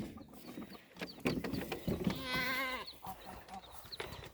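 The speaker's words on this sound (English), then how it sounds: "The goats are talking." A goat gives one wavering bleat close by at a poultry yard, amid scattered clucks and farmyard rustling, with faint fowl calls around it.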